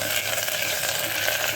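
Onion fried golden brown in oil with ginger-garlic paste, giving a continuous close hissing sizzle with faint crackle throughout, no voices.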